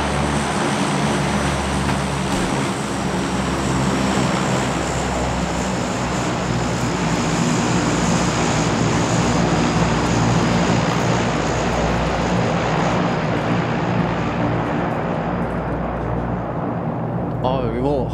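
A loud, steady airplane engine drone in PUBG, a continuous propeller roar with sustained tonal hum that holds throughout, with a voice talking over it.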